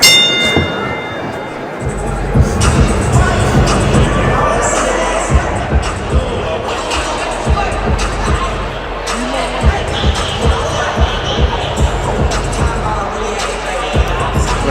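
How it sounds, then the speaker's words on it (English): A boxing arena crowd in Detroit cheers and roars continuously throughout, loud and dense, with sharp bursts and a bell ringing early, while a commentator's voice is audible over the noise. "Crowd getting into it here in Detroit."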